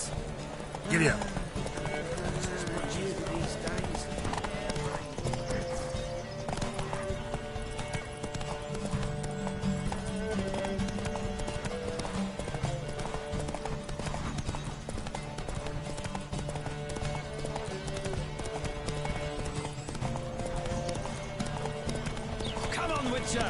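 Racing horses in The Witcher 3 gallop along the Zerrikanian Bay course with a dense, continuous clatter of hooves, steady and loud throughout, with occasional whinnies, riders calling out over the running and a music-like tonal bed underneath.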